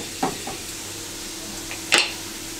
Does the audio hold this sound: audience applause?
no